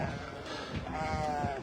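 A sheep bleats at an Eid sheep market, a single drawn-out wavering cry close by amid crowd noise and low chatter.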